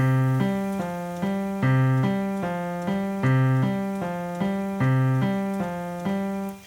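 A piano plays a repeating low left-hand broken-chord exercise pattern, steady and even, each cycle of notes rising and falling at a moderate tempo.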